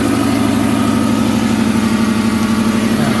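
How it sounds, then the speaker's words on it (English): A 1998 Toyota 4Runner engine idles roughly with a steady, close, loud running drone and an uneven misfire pulse, with no talking. "And it's misfiring worse."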